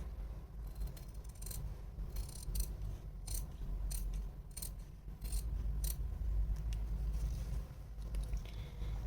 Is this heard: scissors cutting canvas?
yes